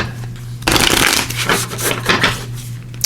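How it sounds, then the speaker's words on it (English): A deck of tarot cards is riffled and shuffled close up, a dense crisp flutter of card edges lasting a couple of seconds after a short pause, over a low steady hum. "So let me just give these a quick shuffle."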